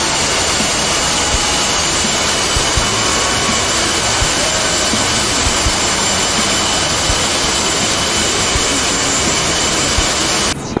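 Military jet engines in the flight simulator DCS World roar loud and steady through a naval strike mission takeoff, a continuous close broadband whine and rumble that runs unbroken for about eleven seconds with no talking.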